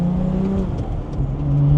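Porsche 997 GT3 with its dry-sump 3.6 flat-six revving loudly from close by, pitch climbing, dipping, then rising again in a continuous engine note.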